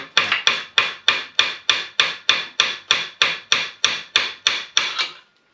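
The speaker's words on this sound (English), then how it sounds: "Where's my mallet? At the bolt." A mallet striking a bolt during a 6.7L diesel engine swap: fourteen sharp, evenly spaced blows, close and loud, with no talking.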